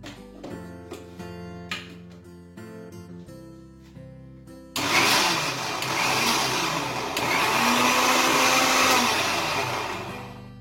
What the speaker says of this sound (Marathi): आणि आता हे मिक्सरमध्ये आपण थोडंसं फिरवून घ्यायचे